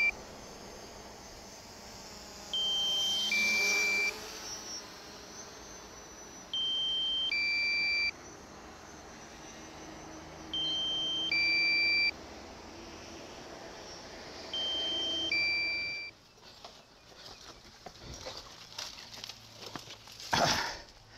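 A drone signals a low battery over a rooftop in Koh Samui, Thailand, with repeated two-tone electronic beep patterns at steady intervals, fairly clear over faint ambient hum, then stopping as wind and handling noise take over.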